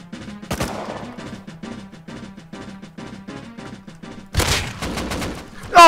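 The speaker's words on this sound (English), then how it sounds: "Someone with an AK on the outside, attacking this base." Rapid AK rifle fire rattles in steady bursts as a base comes under attack in the video game Rust, with a heavier, louder volley breaking in near the end. No talking.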